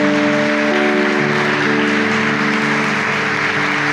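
A church congregation applauds, a dense, steady wash of clapping that fills the whole stretch, with sustained musical tones held underneath.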